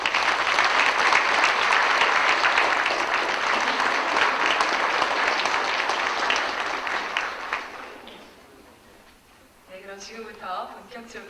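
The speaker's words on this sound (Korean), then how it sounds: "박수로 한번." Audience applause at a scholarship award ceremony, a dense, steady ovation from a seated crowd that fades out after about eight seconds, followed by a voice speaking over the quiet hall.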